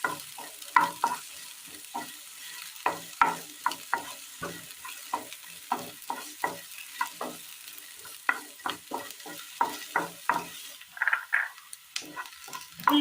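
Chopped onion and three green chillies sautéing in a pan for egg curry, a steady sizzle broken by frequent scraping stirs in an irregular rhythm, close and clear with no talk.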